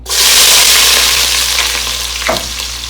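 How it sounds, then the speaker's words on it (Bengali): Onions drop into hot oil and burst into a loud, close sizzle that flares up at once, then slowly eases, with a brief stirring scrape near the end and no voices. "ওই তেলের মধ্যে আমরা পেঁয়াজ দিয়ে দেবো"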